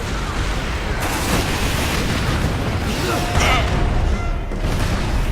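An explosion in the Warhammer 40,000 Space Marine video game sounds as loud, dense booming and rumbling, blended into continuous battle noise throughout, with a short brighter burst partway through.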